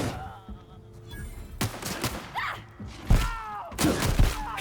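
Gunfire in the video game The Outer Worlds: a loud, irregular burst of shots and heavy thuds, with rapid volleys clustered near the end and no talk over them.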